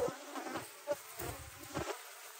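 Honey bees buzz around an open hive full of brood in the season before swarming, a steady close drone with brief louder swells as individual bees pass near.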